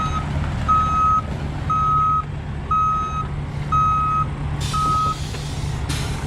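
A dump truck backing up on a road job gives five evenly spaced reversing beeps over a low, steady diesel engine rumble, with a brief hiss near the end.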